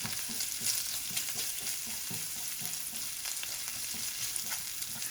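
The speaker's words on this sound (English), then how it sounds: "I love basting my onions or any veggies in pork oil." Onions frying and being basted in pork oil for Chinese egg-coated vermicelli, a steady close sizzle throughout with soft stirring knocks and scrapes, no talking.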